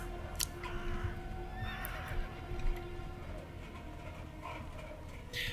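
A horse in the video game The Last Days of Middle-earth whinnies faintly amid ambient game sounds, with occasional hoof clops and bird coos in the background.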